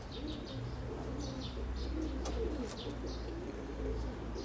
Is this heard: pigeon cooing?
yes